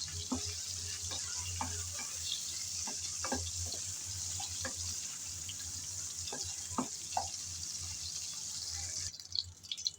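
Shrimp fry in hot oil with a quiet, steady sizzle. Scattered pops and spatula taps sound as they are stirred, and the sizzle fades near the end with no talking.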